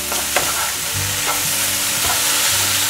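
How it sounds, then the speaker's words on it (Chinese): Shiitake, enoki mushrooms and dried tofu stir-fried in a wok, a loud, steady sizzle with continuous scraping and tossing of the spatula, close up and without voices. "赶快翻炒。"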